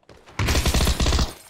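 Burst of gunfire in PUBG, a rapid run of loud, sharp shots after a brief faint lead-in, packed closely together with a short gap before a second cluster.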